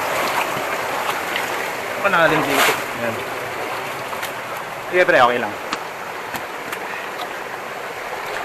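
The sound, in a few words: waterfall, falling water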